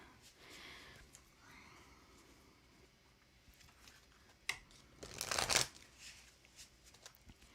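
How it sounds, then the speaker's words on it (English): Tarot cards shuffled by hand. A quiet rustle builds into one loud, brief riffle burst, then the room falls back to near silence. "I'm shuffling."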